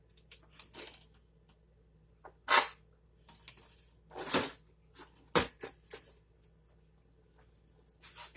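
A spoon stirs sweet and spicy chili in a pressure cooker pot, giving a few sharp metallic clinks and scrapes spaced irregularly against a quiet background.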